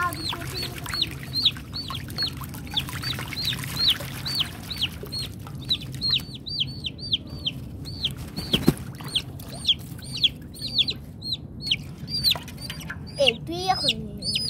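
Chickens clucking and chirping in rapid repeated bursts, close and lively, alongside ducks by a pool, with a low background hum and occasional splashes.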